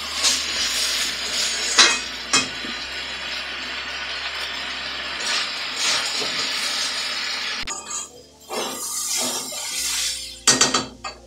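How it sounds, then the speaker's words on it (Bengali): Rice and lentils with spices are fried and stirred in a pan for khichuri, a steady scraping sizzle broken by sharp metallic knocks and clinks of the spoon against the pan. "চাল ডাল সব একসাথে ভালো করে ভাজা হয়ে গেছে"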